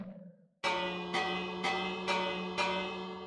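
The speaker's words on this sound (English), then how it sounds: "Bells do not trigger them when it's rung." A bell in Minecraft snapshot 20w49a is struck five times in steady succession, each bright metallic ring sustaining and overlapping the next, loud and alone after a brief faint sound.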